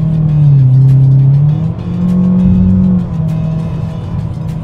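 A 2016 Mitsubishi Outlander PX engine revs hard during kick-down acceleration, a loud droning note that climbs, dips at a gear change and climbs again, heard from inside the cabin with no talk.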